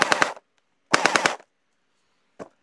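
Close rapid bursts from a Bingfeng P90 v4 gel blaster toy: a short rattle of about four shots, then a second burst of five, and finally a single faint shot after a quiet gap.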